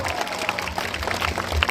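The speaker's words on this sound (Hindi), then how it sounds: "जोर से ताली बजाएंगे प्रभु के लिए" A church congregation at a Bodo gospel testimony gathering applauds for the Lord, a brief steady patter of many hands clapping together with a faint murmur of voices.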